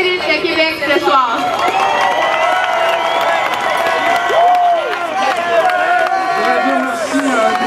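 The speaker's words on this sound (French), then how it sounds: "on peut applaudir les élites de Québec ce soir" Crowd applauding and cheering the Élites de Québec football team at the Challenge Wilson, loud sustained clapping and whoops, with music and voices mixed in throughout.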